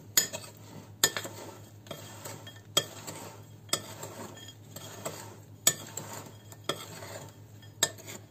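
A utensil stirs chopped nuts into a mixture in a bowl for a Kyiv cake, giving regular scraping strokes with sharp clinks against the bowl roughly once a second, close and alone.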